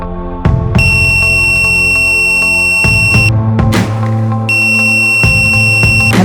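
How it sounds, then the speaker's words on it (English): ANENG ST212 clamp multimeter in continuity mode gives a loud, shrill electronic beep that stops and starts several times, with low clicks and handling noise underneath, close up and without speech. "Buzzer detection."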